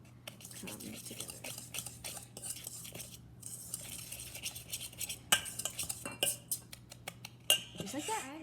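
A fork or whisk mixes and mashes clumps in a bowl for cinnamon roll dough, producing close, repeated clinks and scrapes against the bowl that grow busier toward the end.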